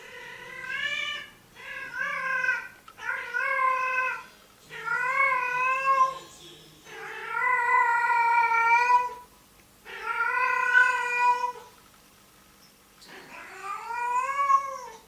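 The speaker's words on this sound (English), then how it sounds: "the mating call consists of series of meows, trills, and howls" A cat's mating calls: a series of long, drawn-out howling meows and wavering yowls, close and loud, repeating with short silent gaps between them and no talking.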